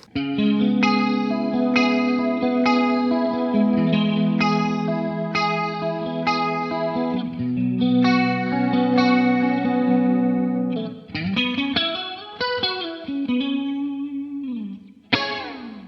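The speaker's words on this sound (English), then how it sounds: "As you can hear, we have a chorus effect." Electric guitar through a Line 6 POD GO with a shimmering chorus effect, modelling a Roland JC-120 amp, plays sustained chords and picked notes, loud and continuous, with a brief pause near the end.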